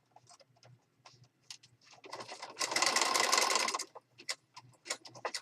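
A sewing machine stitches down the edge of a handmade journal, a loud steady buzzing run of about a second and a half set between quieter clicks and handling noises.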